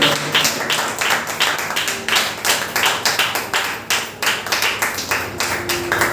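Audience clapping hands together during a Telugu devotional gathering, a steady run of many overlapping claps with a regular rhythm, fairly close and moderately loud, with no talk over it.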